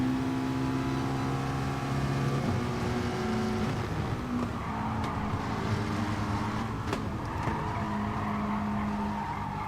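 A McLaren race car in a driving video game at a circuit, engine revving and pulling hard through gears with tire squeal, loud and continuous, no talking.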